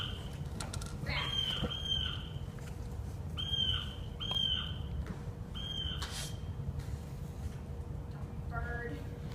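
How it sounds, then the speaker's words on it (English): Bird calls sound as an effect in a stage comedy: short repeated chirps come in quick pairs over a low background hum, with a voice audible in the scene. "Bird."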